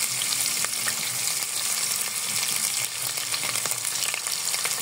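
Onions fry in a pan for chicken biryani, giving a steady, loud, dense sizzle that runs the whole time with a few faint scrapes of stirring.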